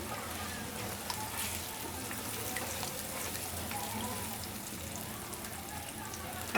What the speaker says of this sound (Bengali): 2 মিনিট ভালো করে ডিমটাকে ভেজে নেব।